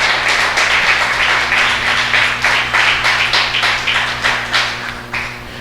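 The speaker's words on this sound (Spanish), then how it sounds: "Denle un fuerte aplauso al Rey de Reyes y Señor de Señores." A church congregation claps in a steady, rhythmic beat, loud and close, with a sustained hum running underneath throughout.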